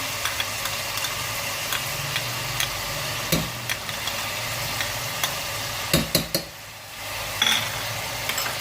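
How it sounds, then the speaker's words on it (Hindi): Garlic ginger paste and ground green chillies fry in a pot with a steady low sizzle. Sharp clicks and clatters of a utensil break in, mostly in a cluster near the end, with a brief quieter lull, no voices. "ये जो हरी मिर्चें हैं हमारी पिसी हुई, ये हम डालेंगे इसमें सारी।"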